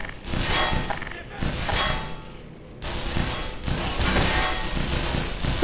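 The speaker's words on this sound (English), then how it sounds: "Stop shooting! I want to return fire." Enemy gunfire rattles in the video game Black Mesa, with repeated bursts of rapid shots and thuddy impacts coming in waves of varying loudness over several seconds, with no pauses between volleys.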